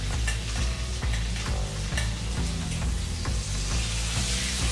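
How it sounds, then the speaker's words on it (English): Pan-fried steak basted with a butter mixture crackles and spits loudly and close, with rhythmic spoon scrapes and splashes of hot butter over a dense sizzle. "start to take the butter mixture that we just made and start to baste that steak"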